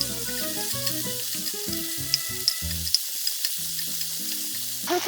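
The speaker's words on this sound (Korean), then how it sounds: "꽈리고추에 식용유가 입혀지면 여기에 부재료로 마늘을 반 큰술, 설탕 반 큰술을 넣고 같이 한번 익혀주듯 볶겠습니다" Shishito peppers coated in oil stir-fry with garlic and sugar in a pan, giving a soft, steady sizzle with light scraping stirs beneath background music.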